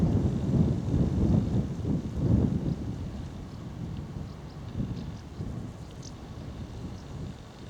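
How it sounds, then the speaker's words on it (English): Steady blustery wind buffets the microphone on a countryside circular walk near Tring, with low rumbling gusts that are strongest at first and then settle into a constant roar. No one speaks. "it's a shame that it's a bit breezy today. Not so much the temperature, which is welcome, but the wind strength, which isn't."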